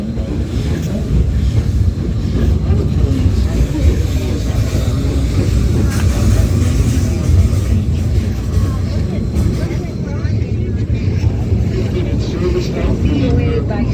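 A train at a Civil War reenactment runs steadily throughout with a dense low rumble and rattle, loud and continuous, while people talk over it.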